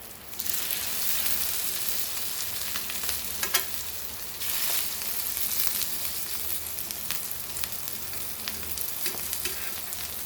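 Rava-coated aubergine slices frying on medium flame after being flipped, a strong, steady crackling sizzle with occasional louder pops and a brief utensil knock, close and alone.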